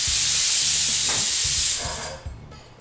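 A pressure cooker cooking dal vents steam with a loud, sustained hiss after its sixth whistle. Low rumbling pulses sit underneath, and the hiss gradually fades toward the end.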